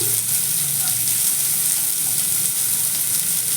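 Finely chopped onion sizzles in a pan for a restaurant-style chicken soup, a dense, loud, continuous hiss of frying up close with no voices.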